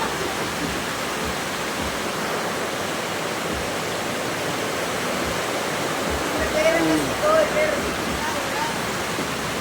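Heavy rain pours down as a dense, steady roar, loud and close throughout, with a brief voice breaking through near the end.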